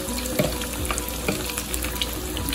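Beer-battered orange roughy fillets fry in a pan with a loud, dense, continuous sizzle and an occasional small pop, heard up close.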